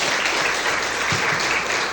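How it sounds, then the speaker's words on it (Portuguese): A church congregation claps together at an evening service, dense steady applause filling the room from close by without a pause. "Vamos dar uma salva de palmas para Jesus."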